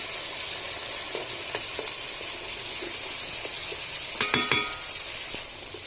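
Onion paste frying in a pan: a steady, close sizzle with occasional stirring scrapes and taps, a few louder spatters near the end.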